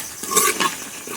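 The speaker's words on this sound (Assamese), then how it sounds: "এতিয়া আকৌ কিছু সময় আকৌ ভাজিব লাগিব এনেকৈ" Pork curry with potatoes frying in a pot after a little water is added, a brief scrape of stirring and a soft sizzle rising twice over a low steady hiss, close and moderately loud.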